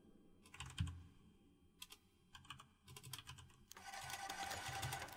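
Bursts of computer keyboard typing, quick irregular key clatter in several separate runs, then a denser continuous stretch at the end, close and moderately loud over a low background hum.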